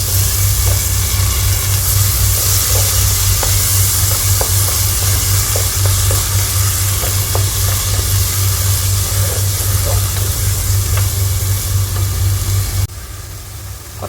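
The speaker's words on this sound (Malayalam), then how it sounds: "ഇനി നമ്മളിതിലേക്ക് ഒരു ചെറിയ സ്പൂണ് തൈര് ചേർത്ത് വെക്കാം ഇതുകൂടി നന്നായിട്ട് മിക്സ് ചെയ്യാം" Chicken curry masala with curd sizzles steadily and loudly in a pan as it is stirred, with faint scraping clicks over the constant frying hiss until it drops suddenly near the end.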